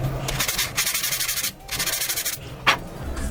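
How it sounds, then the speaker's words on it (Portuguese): Sandpaper rubs over dried wall putty on a small action-figure base in quick back-and-forth strokes, a steady raspy scratching broken by two short pauses, close and alone. "E agora a gente vai usar uma lixa,"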